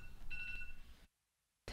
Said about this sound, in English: That was my antibiotics alarm.